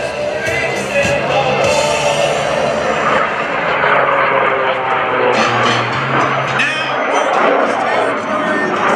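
Jeff Boerboon's Jack Link's Jet Waco biplane, the Screamin' Sasquatch, roars loudly and steadily overhead at a Rhode Island Air National Guard airshow, a sustained engine and jet drone with an announcer talking over it.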